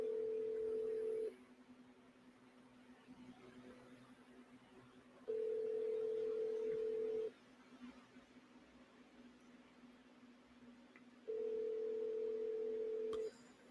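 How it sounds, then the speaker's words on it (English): A telephone ringing over a speakerphone call, three long even tones separated by quiet gaps over a faint hum, with no talking. "are you going to answer the phone?"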